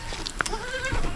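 A goat gives a short, close bleat, a wavering nasal cry lasting about half a second, with light background noise and faint knocks around it.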